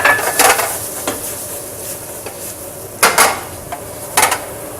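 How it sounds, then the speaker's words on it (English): Chopped onions, carrots and celery sweat in a pan, giving a soft steady sizzle with scattered clinks and scrapes of a utensil stirring against the pan, close by and with no talking. "put in our chopped onions, carrots, and celery. And we're just going to sweat these down"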